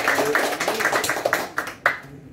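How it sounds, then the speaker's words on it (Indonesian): An audience claps at an anti-corruption outreach session, a short scattered burst of hand claps that thins out and stops within about two seconds, moderately close. "tepuk tangan dulu"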